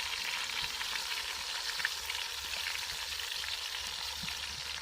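Ginger and garlic sizzle and fry in a pan for kaleji masala, a steady close crackling hiss that runs unbroken with small pops throughout and no talking.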